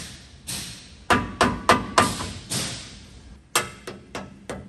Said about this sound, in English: I'll grab the trusty mallet.